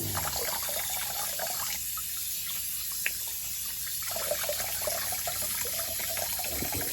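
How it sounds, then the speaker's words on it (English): A bathroom sink drains after a shave, with a continuous trickling, gurgling flow of water that dips briefly in the middle and then resumes, close by and without talk. "Let's drain the sink out."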